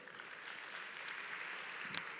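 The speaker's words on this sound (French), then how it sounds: "S'il vous plaît, applaudissements pour Pikanoa." An audience at a youtuber conference at TGS Toulouse game show breaks into applause, a dense, even wash of clapping from a crowd heard at a distance, brief and steady with no voices over it.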